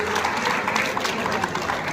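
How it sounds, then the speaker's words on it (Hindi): An audience at a public unveiling ceremony in Unnao applauds. Dense, steady clapping continues throughout at moderate volume, with no voices over it. "एक बार जोरदार तालियों से हम सब इस प्रक्रिया में सहभागी बनेंगे"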